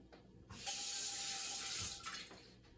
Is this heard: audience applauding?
no